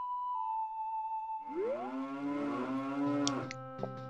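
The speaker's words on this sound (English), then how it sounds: "There's a cow here, but I don't think that's for anything." A cow in The Legend of Zelda game lets out a long, loud, drawn-out moo, preceded by a steady sustained game tone, with a couple of brief chimes near the end.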